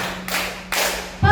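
Primary school class in Grade 4 doing a rhythmic clapping game, with two separate bursts of group claps and then a sharp thud at the end, a low steady hum running underneath.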